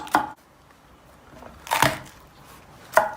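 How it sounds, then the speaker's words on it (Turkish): A knife chops vegetables and peppers on a cutting board in three separate sharp strikes, spaced apart, close and fairly clear against a quiet background. "Bütün malzemeyi ince ince sırayla bir şekilde doğrayacağız."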